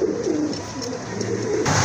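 A pair of pigeons coo softly at close range, a few low, repeated calls over a faint background hum, with no talk.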